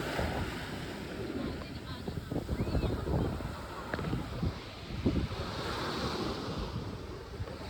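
Sea waves wash onto Boracay beach in a steady rush of surf, with gusts of wind buffeting the microphone. A voice murmurs faintly in the background.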